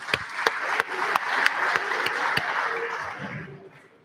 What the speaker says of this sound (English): So give him applause for that accomplishment.